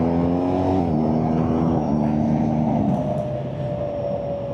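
Motorcycle cruising at 60 mph in sixth gear, a loud steady engine drone with rising and falling harmonic tones under strong wind rush, close and continuous without talk.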